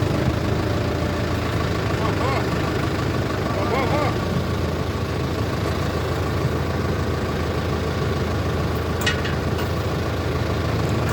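A diesel tractor engine idles with a steady low rumble throughout, nearby and fairly loud, with faint voices and small clanks in the background.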